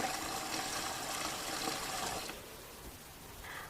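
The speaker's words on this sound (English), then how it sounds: "we're going to fill up our pot with water to about 1 inch above the potatoes" Tap water gushes steadily into a pot of potatoes, a loud continuous rush that drops to a quieter trickle near the end.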